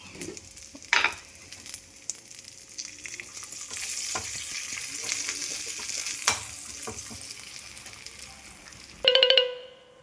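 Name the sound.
jackfruit frying in coconut oil with chili powder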